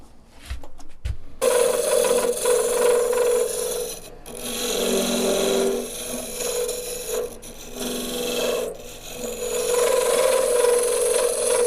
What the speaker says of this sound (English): I'm just going to use a skew as a negative rake scraper